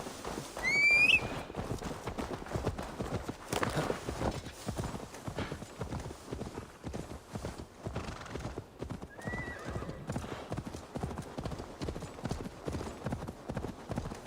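Horse hooves clip-clop in a steady, close trotting rhythm in the Assassin's Creed Valhalla video game, with a high whinny near the start and a shorter one later.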